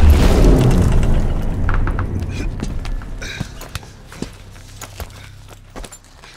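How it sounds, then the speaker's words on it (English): Bombardment in Call of Duty: Vanguard, a heavy explosion rumbling out at the start and fading into scattered debris impacts and thuds, with sharp isolated cracks later on. "Bombardment's close."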